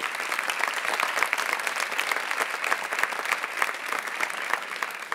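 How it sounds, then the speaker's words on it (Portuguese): A church congregation applauds steadily, a dense wash of clapping that holds at an even level without pause. "Pode aplaudir o Senhor, é para Ele."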